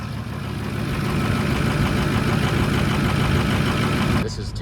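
A 2006 diesel truck engine idling at high RPM just after starting, a steady loud rumble close by that cuts off near the end.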